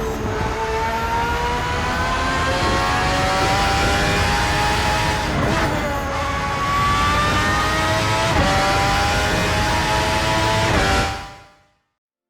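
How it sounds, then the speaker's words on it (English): A high-pitched V12 race car engine in the RaceRoom sim racing game screams steadily at high revs, shifting pitch a few times, loud and close, before cutting off abruptly. "the scream of the V12 engine is the real reason why I love this car"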